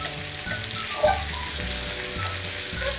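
Bangda mackerel fish frying in a pan, a soft continuous sizzle with a brief clink of utensil near the middle, close and fairly quiet with no talking.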